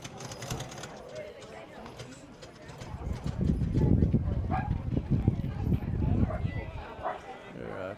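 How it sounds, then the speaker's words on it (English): Horse hooves clip-clop irregularly as a horse-drawn wagon train rolls by on a strip between a field and woods, with people talking and a dog barking nearby over outdoor noise. "A horse wagon train has just pulled into the narrow strip between the field and the woods."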